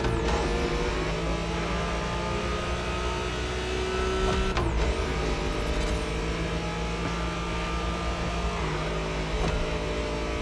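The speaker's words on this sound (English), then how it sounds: "You're driving Ren's Skyline this time" A Nissan Skyline R34 being driven in The Crew Motorfest, its engine a steady, loud, continuous drone throughout with a couple of sharp whooshing shifts in pitch, no voices.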